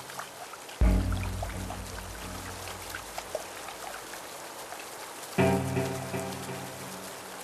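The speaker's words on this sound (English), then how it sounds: "Torrential rain begins to pour on the Maasai Mara." Torrential rain pours over the Maasai Mara plains as a dense, steady roar, with two sudden louder surges of downpour and low rumbling underneath.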